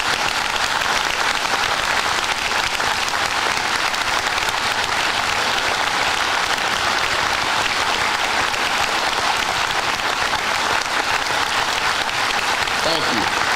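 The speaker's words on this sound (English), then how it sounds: "they deserve a round of applause" Veterans standing at a school Veterans Day program receive loud, sustained applause from a packed audience, an unbroken wash of clapping that continues with hardly any letup to the end.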